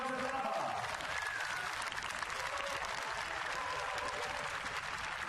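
A crowd cheers and applauds steadily at a women's 15000 m speed skating elimination race at the World Games in Wroclaw, a dense, continuous wash of clapping with a commentator speaking over it.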